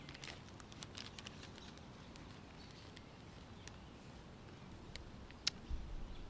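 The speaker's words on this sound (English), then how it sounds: "got a little rain going on back here behind me" Light rain falls behind a deck umbrella outdoors, a soft steady patter with scattered sharper drops ticking at irregular intervals, faint and continuous with no talking.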